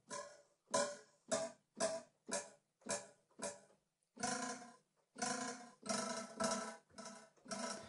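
A plastic ruler struck over and over, about fourteen sharp, bright hits in a fairly steady rhythm, each ringing briefly before the next, close and clear.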